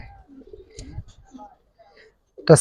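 Giribaz and coloured pigeons coo softly in short, low, intermittent bursts, close by, ending with a brief louder sound near the end.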